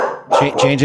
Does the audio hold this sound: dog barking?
yes